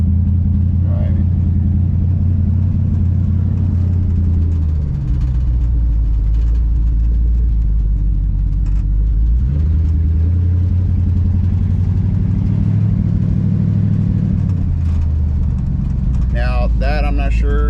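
Project car engine running while driving, a loud, continuous low rumble that rises and falls slightly with speed, close up and steady throughout.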